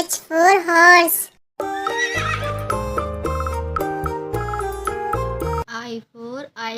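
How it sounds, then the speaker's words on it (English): A horse whinny with a wavering, descending pitch opens the sequence, then gives way to a bright piano-like melody and a second, shorter neigh-like call near the end. "H for horse. H for horse."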